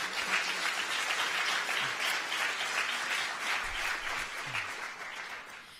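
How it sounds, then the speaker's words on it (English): Audience applause at a Texas U.S. House District 29 debate, a steady broadband wash of many hands clapping that holds for several seconds and tapers slightly toward the end, with no talk over it. "Let's give them a round of applause."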